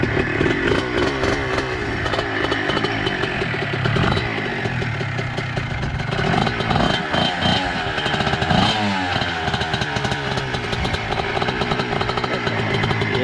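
A Honda CR125 mini bike engine runs loud and close for the whole stretch, a steady buzzing drone whose revs rise and fall slightly during off-road riding.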